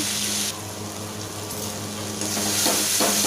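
Cumin and coriander spices fry and are stirred in a pan, a continuous sizzle with scraping stir sounds that grows louder toward the end.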